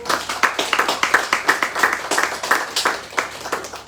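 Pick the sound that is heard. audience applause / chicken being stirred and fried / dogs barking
audience applause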